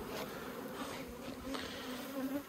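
Elgon honeybees buzz at their hive in May, a constant, moderately close swarm hum with individual bees passing near and no talking.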